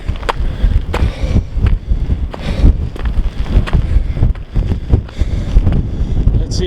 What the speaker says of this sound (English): Oh, that wind is so fast.